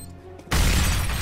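Grenade explosion in a shooter video game, a sudden loud burst that cuts in and stays as a dense roaring wash after a brief quieter lead-in.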